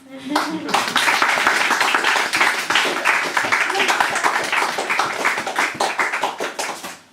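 An audience claps and applauds after a singer's set at a live performance night, a dense, sustained burst of many hands that carries on throughout and tapers at the end.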